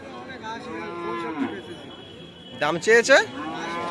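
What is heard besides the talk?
cows at a cattle market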